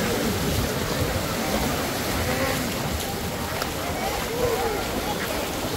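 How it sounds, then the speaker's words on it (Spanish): Loud, steady rushing water roars throughout, with voices shouting and talking over it. "está fuerte el agua"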